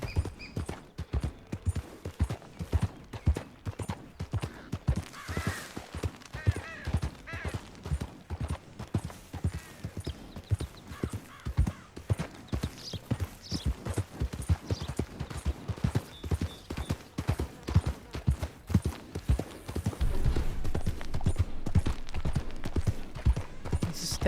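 Horse hooves clip-clopping in a steady, even rhythm while riding in Red Dead Redemption 2, continuous and fairly close throughout, with the pace growing denser and louder near the end.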